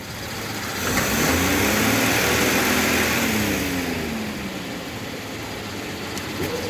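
An engine paired with a 48RE transmission runs steadily on a dyno, its drone swelling in the first seconds and then easing back to a constant mid-pitched hum, alone with no talk.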